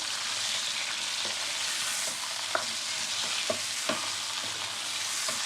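Chicken fries with ginger garlic paste in a hot pan, a constant close sizzle broken by several light scraping stirs and small ticks, no one speaking.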